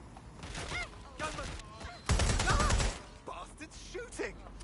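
Enemies firing guns in the video game Watch Dogs: Legion, a loud burst of rapid gunfire in the middle with scattered shots around it, heard under someone talking.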